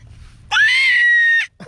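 A voice imitates a dog with a single drawn-out, high-pitched yelp or howl lasting about a second, close and loud, followed by a brief softer vocal sound.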